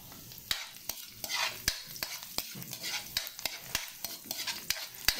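Garlic sizzles steadily in a hot pan while a utensil stirs it, giving sharp repeated scrapes and clinks over a constant frying hiss, close and clear with no talking.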